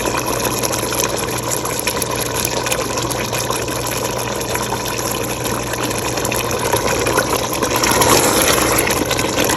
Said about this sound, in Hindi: मैंने जो है एक सॉस पैन में पानी गर्म करने के लिए रखा हुआ है।